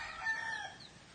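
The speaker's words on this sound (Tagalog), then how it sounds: "May manok din kami binibenta, malaki." A farm chicken gives a short, faint cluck, heard alone for about a second.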